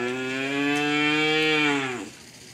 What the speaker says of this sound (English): I was just blown away by the sound of the cow